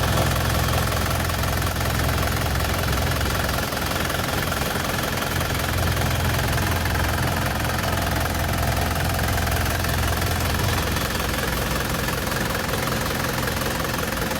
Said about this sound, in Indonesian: Mesin halus, turbo normal.